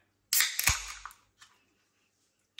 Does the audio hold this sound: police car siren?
no